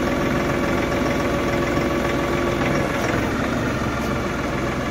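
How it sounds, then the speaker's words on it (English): An LS XR4145C tractor engine runs steadily and loud, its low rumble dipping slightly as it lugs under loader load, with a constant knocking throb throughout. "So pulling it back, you hear the tractor"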